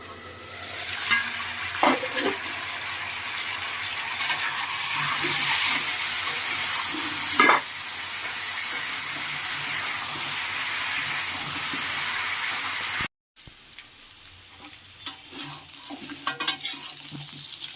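Potatoes seasoned with salt and turmeric fry in a kadai with a soft, continuous sizzle. Louder scraping and stirring clatters break in now and then, followed by a brief cut and quieter handling.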